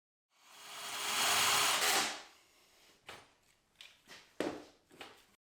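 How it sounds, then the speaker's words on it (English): A spade bit bores into scrap wood, a rising whirring drill burst lasting about two seconds, followed by several shorter, quieter plunges and scraping pulses as the center of the piece is hollowed out. "use the spade bit to drill down again and again, slightly overlapping the drill areas to bore out the center"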